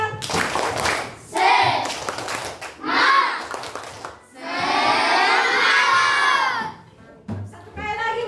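Children in a classroom shout a rhythmic clapping chant in loud bursts, voices rising together with claps between phrases and a long sustained group cry near the end.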